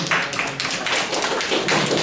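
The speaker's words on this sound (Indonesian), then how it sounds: "tepuk tangan untuk kita semua dulu nih" A group of training participants claps together in a steady burst of applause, dense and close, sustained for a couple of seconds without talk.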